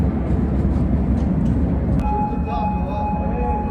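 Metro train rumbling steadily up close, with a sharp clank partway through and a faint high whine afterward; people chatter underneath.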